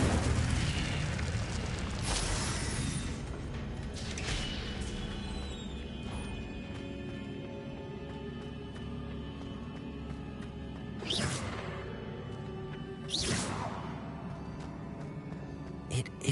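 Spell casting effects from the Hogwarts Legacy video game, a few spaced whooshing bursts and booming impacts rising out of a steady ambient bed, with a voice faintly heard now and then.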